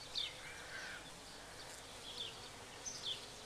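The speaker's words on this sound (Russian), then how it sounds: "А тут пчелки летают." Bees fly among a field of poppies and wild bindweed in a June village meadow, their faint buzzing drifting through steady outdoor ambience with a few brief high chirps.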